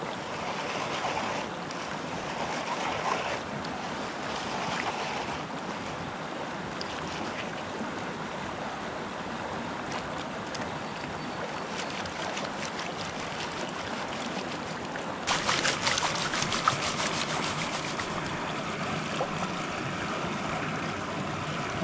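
Water sloshing and swirling steadily as gold pay dirt scooped from a willow-tree crevice is panned at a creek, a continuous outdoor wash with a brighter splashy burst near the end.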